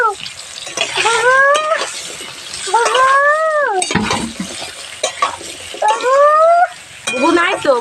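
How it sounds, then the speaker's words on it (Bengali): Potatoes and pointed gourd fry in a pan with a continuous hiss and occasional stirring scrapes, while a cat nearby meows loudly and repeatedly over the sizzle. "এবার আলু পটলটা দিয়ে ভালোভাবে ভেজে নেব"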